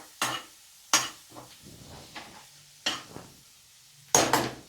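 Onions and green chilies dropped into a hot pan with oil and stirred for a dried fish tomato curry, heard as a few sharp scraping stirs against the pan over a soft, faint sizzle, with no voices.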